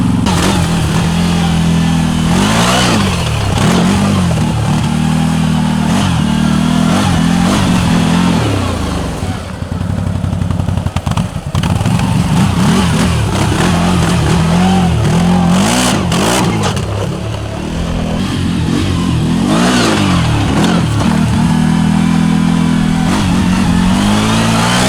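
A CFMOTO off-road vehicle fitted with a Stage 2 MSC clutch kit accelerates hard on a top-speed run, its mid-pitched engine droning loud and close, rising and falling through repeated revving surges across the whole stretch.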